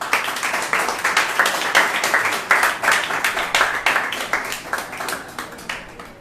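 Congregation applause at a Sunday church service, a steady burst of many hands clapping that fills the room and then gradually thins out toward the end, with no voices over it.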